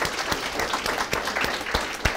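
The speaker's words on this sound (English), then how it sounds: "Yes, round of applause." An audience claps after a panel discussion on worker-centered policy, a steady moderate round of applause with distinct sharper claps standing out, no voices over it.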